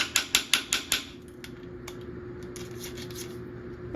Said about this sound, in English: Oh no, my ratchet's broken.